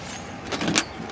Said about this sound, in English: And my keys for my car.